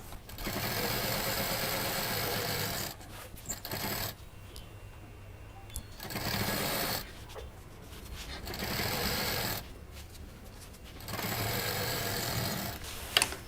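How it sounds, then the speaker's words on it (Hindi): A sewing machine stitches the border of a patchwork quilt, a steady fast whirring hum in several long runs broken by short pauses, close and alone. "पहले हम इसको एल शेप में जो इसकी बाउंड्री है इसको सिल देंगे"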